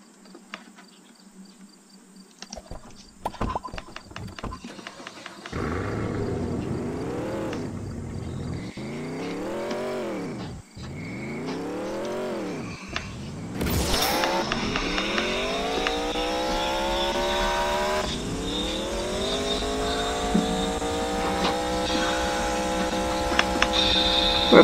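A Mercedes car in the Roblox Mad City game drives through repeated engine revs and gear shifts, rising in pitch and dropping back, then holding a steady high whine. The sound is loud and close, with a faint insect-like buzz behind it and no speech.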